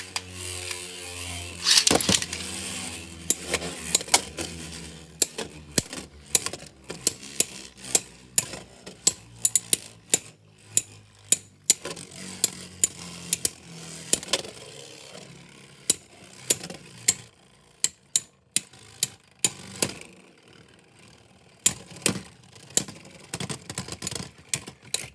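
Beyblade spinning tops, including a Silverwolf combo, battle in a plastic stadium, giving a fast, dense run of sharp clicks and clacking collisions over a steady whirring rub. The clicks thin out and become sparser toward the end, with no voices.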